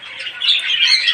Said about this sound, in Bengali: কিন্তু লাভবার্ড